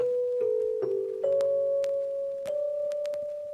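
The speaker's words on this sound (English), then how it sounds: "that mallet sound" A bright mallet instrument from a music sample plays a few sustained notes in a simple melody, each struck clearly and ringing with soft decay.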